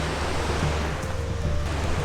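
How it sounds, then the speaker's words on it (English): A waterfall along a forest hiking trail, with a log lying across it, gives a steady, broad rushing roar of falling water. No one speaks. "This is the third waterfall"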